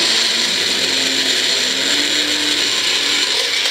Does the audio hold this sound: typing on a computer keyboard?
no